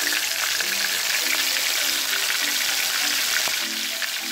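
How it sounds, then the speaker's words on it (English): Steady, loud sizzling of moray eel shallow frying in hot oil, a dense crackling hiss with scattered pops throughout. "Ooh, that sizzle good."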